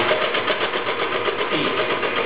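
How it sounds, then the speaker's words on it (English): An electric mixer beating egg whites to stiff peaks makes a loud, continuous motor whir with slight wobbling, close up, without talk. "once I have all the egg whites, I'm going to beat this until I have very stiff"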